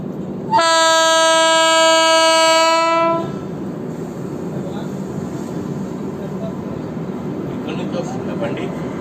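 The DNR-SC SF Express 12792 sounds its horn in one loud, sustained blast of a few seconds, followed by the low rumble of the train running on.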